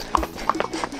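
A mare's hooves clop on hard ground in a steady walking rhythm, four or so distinct strikes, close by.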